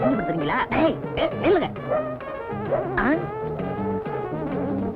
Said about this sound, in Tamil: ஏதோ பெரிய நாய் போல் இருக்கு